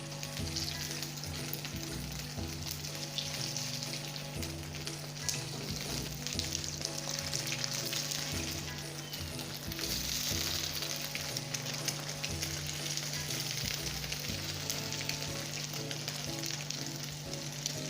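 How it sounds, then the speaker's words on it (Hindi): Potato and egg kebabs frying one by one in medium-hot oil, a steady close sizzle with soft crackle running throughout, no voices. "ऑयल के मीडियम गर्म होते ही हम इसके अंदर एक एक करके आलू अंडे के कबाब रखते जाएंगे।"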